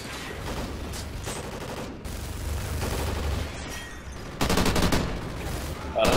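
Sustained automatic machine gun fire in the Call of Duty: Ghosts campaign mission Clockwork, dense rattling bursts running almost continuously with a louder stretch near the end, a dull rumble of combat beneath.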